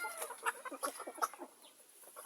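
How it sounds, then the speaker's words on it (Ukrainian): Bielefelder hen and Livenskaya calico rooster, chickens about four months old, cluck in a close run of short, uneven calls, with a brief quieter stretch near the end. "Ось курочка біліфільдер і півник, наприклад, лівінський Сицевий"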